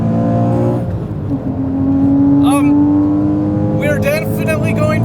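A Porsche Cayman accelerates hard at speed, its engine note climbing in a steady rising whine over heavy road and wind roar inside the cabin, with voices briefly cutting in.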